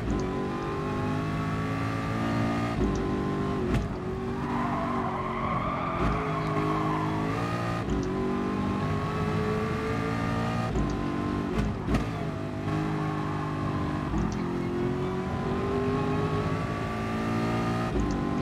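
Race cars in GT Sport roaring through a race, engines revving steadily with gear shifts and pitch swells as several cars run close together, loud and continuous.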